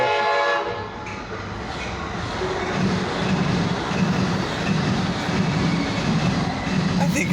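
A train rolls past close by, a loud continuous rumble and rattle of wagons with a horn-like tone at the start, a steady roar lasting throughout while a voice talks faintly over it.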